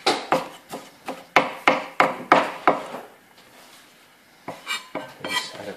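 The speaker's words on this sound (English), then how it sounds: "So just gonna roughly chop them like so." A knife chops spring onions on a board for a quesadilla salad, about nine sharp, evenly paced chops close up, then a short pause and a few quicker, lighter chops.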